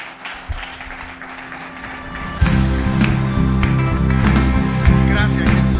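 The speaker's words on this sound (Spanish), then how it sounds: "Denle un buen aplauso al Señor nuevamente" Congregation clapping during a church worship service, starting thin and then swelling into loud rhythmic applause as music with a steady beat kicks in underneath, the clapping continuing over the praise band.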